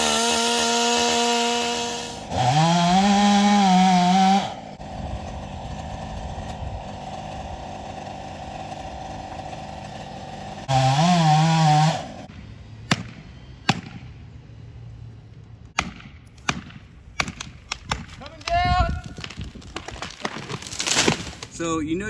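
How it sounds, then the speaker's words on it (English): A chainsaw roars in two loud bursts while making the back cut on a tree, then wood cracks and snaps in sharp, scattered pops and thuds as the tree falls. "Tree falling, back cut."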